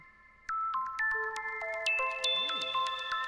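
A bright synth arpeggio steps through quick chiming notes in a rising, repeating pattern, with bell-like tones stacking up over a few seconds.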